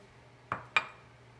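Butter goes into a mixing bowl for a baking recipe: two quick, sharp clinks of a utensil against the bowl, close and fairly crisp, over a quiet background hum with no speech.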